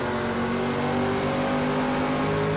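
A race car engine in Project Cars 2 holds a steady, loud, high-revving drone from start to end, with no talk over it.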